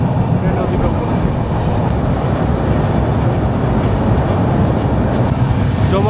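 Train crossing the Jamuna rail bridge over the Jamuna River in Bangladesh, a steady loud rumble and roar of wheels on the bridge that holds unbroken throughout, with no voices.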